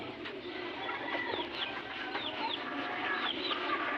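Breeder doves (bato-bato) in a backyard cage, giving a few soft coos and faint chirps over a steady hiss of background noise, with no talking.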